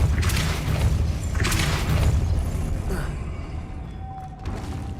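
A Depulso spell cast in Hogwarts Legacy, heard as several heavy booming blasts with bursts of noise spread across the clip, loud and close, followed by a softer magical shimmer and a brief rising tone near the end.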